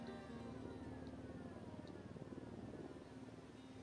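In the video game Ghost Recon Wildlands, a helicopter's steady rotor chop and engine drone beat on quietly and evenly, thinning slightly toward the end as it moves away, with no speech.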